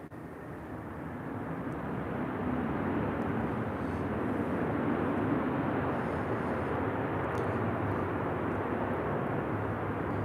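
A Sun Country Boeing 737-800 airliner at Minneapolis–Saint Paul airport produces a continuous low jet roar that builds and holds at moderate distance, broadband and steady with no voices.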